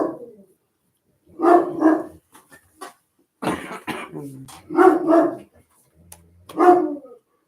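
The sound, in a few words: dog barking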